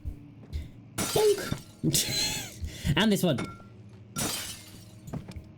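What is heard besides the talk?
glass breaking with a book in video game Amnesia: The Dark Descent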